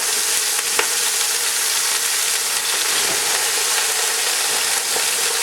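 Two pounds of ground round and a pound of ground pork browning in hot oil in a pot for beer and cheese chili, with a steady close sizzle and frying hiss and a few soft scrapes of a wooden spoon.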